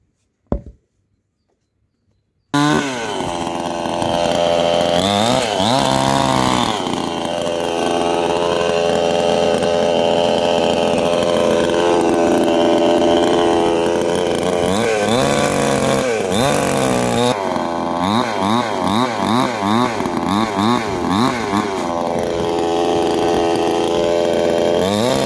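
A chainsaw cuts firewood outdoors, roaring in loudly after a brief quiet start and running continuously close by, its pitch dipping and rising as the blade bites into the logs.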